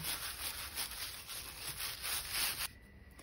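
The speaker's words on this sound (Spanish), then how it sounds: "recortamos, ya sea con una limita de uñas o con una lija" Steady, rapid scratchy rubbing of a nail file or sandpaper against a small piece of wine cork, close and quiet, stopping abruptly near the end.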